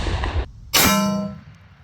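A rifle round fired from a short barrel strikes an AR400 steel plate, giving one sharp, loud metallic clang that rings on and fades out over about a second.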